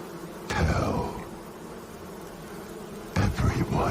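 Bees buzzing close by, a low droning hum that swells loudly twice, near the start and again near the end, with quieter buzzing in between and no talk.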